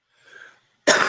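A faint raspy breath is followed by a single sharp, loud cough burst up close.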